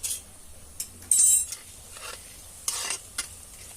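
Mustard seeds, urad dal, fennel, cinnamon and bay leaf frying in hot oil for rava kichadi, a faint sizzle under several short bursts of spoon scraping and clinking against the pan, no talking.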